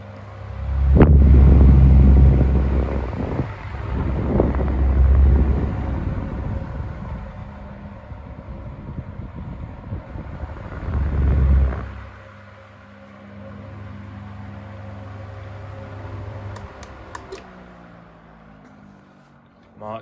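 A desk fan more than 60 years old runs on its high setting, a steady whirring motor drone with a strong low hum, heavily overlaid by loud handling thumps and rumbles near the microphone.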